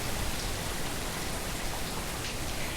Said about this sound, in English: And Malika, how long has it been raining that hard up country where you are now?